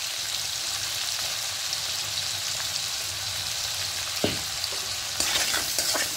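Chopped tomato and onion fry with salt in a pan for a fish and potato curry, a soft continuous sizzle broken by a few scraping stirs of a spatula near the end, with no talking.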